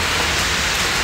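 Rain falls outdoors near an overpass as a dense, loud, continuous hiss of drops hitting surfaces, steady and without a break, with no voices over it.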